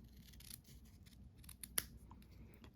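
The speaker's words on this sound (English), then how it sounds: "And I'm gonna cut this one." Scissors snip through a ribbon in a quiet room, a few faint, close cuts with one sharper snip standing out near the middle.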